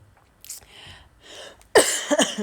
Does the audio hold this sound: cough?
yes